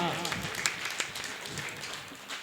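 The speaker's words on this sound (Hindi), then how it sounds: "तालियां होना चाहिए इस जज्बे के लिए।" Audience applause at an outdoor mushaira poetry gathering on a marriage lawn in Barabanki, a dense, steady wash of clapping with a few sharper claps, mixed with crowd voices throughout.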